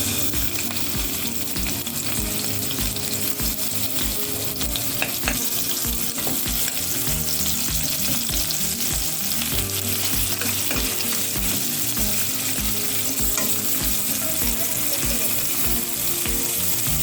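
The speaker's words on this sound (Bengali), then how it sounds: "তারপর প্রথমে পেঁয়াজ কুচি দিলাম" Chopped onion fries in hot oil in a wok, a loud, steady, close sizzle that runs the whole time with occasional stirring scrapes and no voices.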